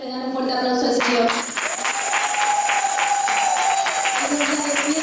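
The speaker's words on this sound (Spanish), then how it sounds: "¿Cuánto le dan un fuerte aplauso al Señor?" A congregation applauds the Lord during a Sunday church service, with steady, sustained clapping beneath held electronic keyboard tones that ring out loudly across the whole stretch.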